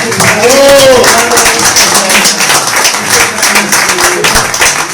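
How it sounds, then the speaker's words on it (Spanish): Crowd applause and cheering at a gathering marking Emiliano Zapata's birthday, a steady loud wash of clapping from many people with voices mixed in throughout. "Un aplauso por el cumpleaños de Zapata"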